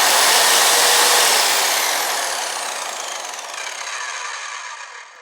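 Evolution R185CCSX circular saw running free with no soft start, a loud high-pitched whine that sustains and then slowly spins down in pitch and volume as the blade slows.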